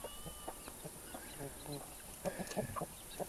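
Backyard chickens clucking in short, soft bursts near and far, with a few louder clucks toward the end over a quiet outdoor background and faint insect buzz.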